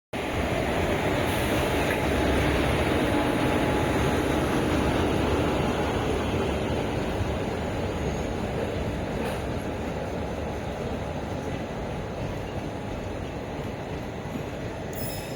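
The Puducherry–Yesvantpur Express rolls in with a steady, loud rumble and hiss of wheels on track, a continuous heavy drone with faint squeals, no voices.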